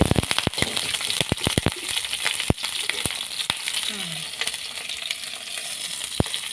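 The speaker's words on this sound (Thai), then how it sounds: "เจียวหอมกับกระเทียมให้หอมให้ออกกลิ่นหอม" Shallots and garlic frying in a pan, a steady sizzle broken by sharp clicks and clatters of stirring and scraping, close and loud throughout.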